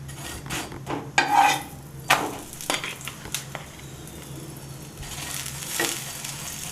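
A paratha fries in white oil in a pan, giving a soft steady sizzle with a few sharp clinks and scrapes of utensils near the start, fairly quiet and close.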